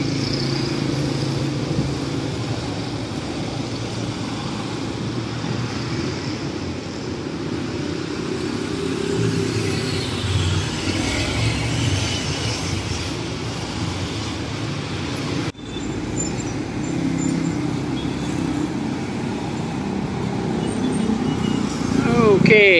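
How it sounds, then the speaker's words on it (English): Night traffic on a national highway in Barrio Barretto, a steady roar of passing cars, motorcycles and buses with engines swelling and fading, under occasional voices. "Traffic."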